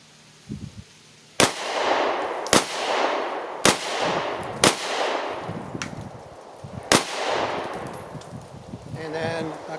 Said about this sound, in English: A couple rounds with the 9mm.